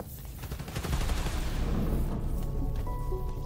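Gunfire aimed at electrical transformers at a power station in the video game Spider-Man Miles Morales, heard as a dense run of loud rapid shots and booms over a constant noisy background.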